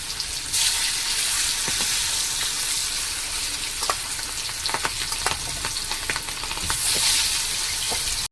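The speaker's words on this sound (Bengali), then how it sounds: "এবার তেল গরম হয়ে গেছে, দিয়ে দিচ্ছি। একটু ভালো করে ভেজে নেব" Loud, constant crackling sizzle of fish frying in hot oil, close up, with occasional pops and no talking.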